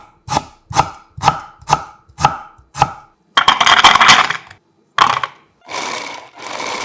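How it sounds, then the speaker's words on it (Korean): A knife chops through whole garlic cloves and a thumb-sized piece of ginger on a board: six crisp, evenly spaced close-up strikes, then a scraping sweep of the blade and a few further scrapes. "통마늘 15개와 생강 엄지 크기 1개를 준비해서 듬성듬성 썰어"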